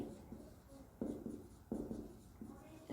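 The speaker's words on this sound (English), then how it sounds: "So I'll write fixed interest rate." A pen writing on paper in quick scratchy strokes that come in a few short bursts, close and fairly quiet, with no voices.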